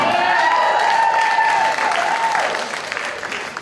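A Texas comedy club audience bursts into loud cheering, whooping and applause at close range, holding strong then tapering off over a few seconds.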